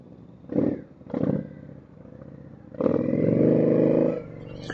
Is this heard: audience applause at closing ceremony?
no